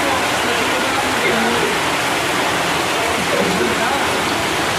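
Steady rain pouring down in a village while people shelter under cover, a dense even hiss of falling water that fills the whole stretch without a break, moderately loud and close.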